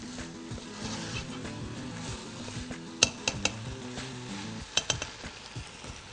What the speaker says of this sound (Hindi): इसको एक दफा मिक्स करें